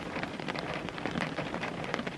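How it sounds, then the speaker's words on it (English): Steady rain falls at a campsite during an SUV camping trip, a dense, even hiss of drops pattering on surfaces close by, with no voices. "Hear the rain falling."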